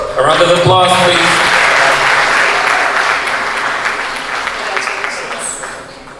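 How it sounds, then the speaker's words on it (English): Loud applause fills a hall as an audience honours school award winners, a brief voice rising at the start before sustained clapping carries on and gradually softens over about six seconds. "A round of applause, please."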